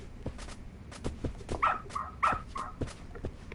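A dog in the video game Lost Judgment barks in a few short, sharp yips and whimpering woofs over soft footstep-like thuds, fairly close and moderately loud.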